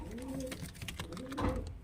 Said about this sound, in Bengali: এখানে যে পায়রাগুলো দেখতে পাচ্ছেন কিন্তু প্রত্যেকটা পায়রা হাই ফ্লায়ার পায়রা